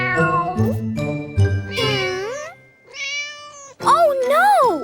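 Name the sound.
cartoon mama cat meowing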